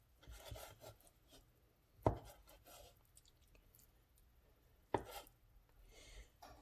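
Raw ahi tuna being chopped fine with a knife on a board, with soft irregular cuts and two sharper knocks of the blade, quiet and close, without speech.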